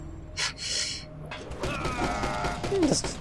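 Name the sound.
doors being locked, from a video game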